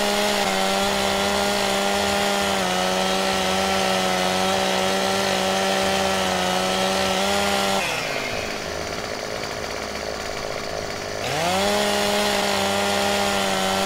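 Chainsaw cutting a tree in the Farming Simulator 2017 video game: a loud, continuous buzzing engine drone that dips in pitch as the blade bites into the wood for a few seconds, then revs back up.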